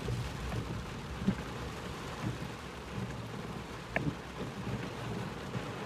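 Heavy rain drums steadily on a car during a journey, a dense close wash of water noise with a few sharper knocks and no voices.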